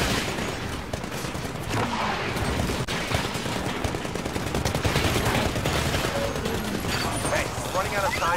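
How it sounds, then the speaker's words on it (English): Sustained sci-fi gunfire from the shooter game Titanfall, with dense overlapping bursts and rattling automatic fire filling the whole stretch, while someone talks over the loud battle. "somebody's shooting at me from behind"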